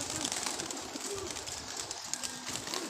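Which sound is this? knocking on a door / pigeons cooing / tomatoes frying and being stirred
pigeons cooing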